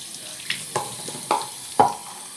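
Tap water runs while a muddy dog is rinsed, heard as a soft steady flow broken by several brief splashes and spatters at irregular intervals, close and fairly quiet.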